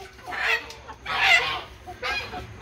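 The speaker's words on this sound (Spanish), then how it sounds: "Sí, capturando las gallinas." Chickens being caught squawk and flap in three loud, harsh bursts, each lasting about half a second to a second, close by with no talk.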